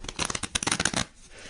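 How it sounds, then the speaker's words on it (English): A deck of playing cards riffled in a big shuffle, a quick burst of crisp rapid flutters for about a second, then settling to quiet. "You know this big shuffle is quite tricky to do."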